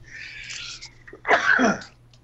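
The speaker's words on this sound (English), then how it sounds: "Excuse me, I had to sneeze." A single sharp human sneeze bursts out close and loud, preceded by a faint breathy intake, with no talking around it.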